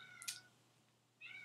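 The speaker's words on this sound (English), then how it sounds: "the kitty starts to yell when I'm talking to the computer" A pet cat meows loudly indoors, two distinct cries separated by a pause, close and clear over a faint steady hum.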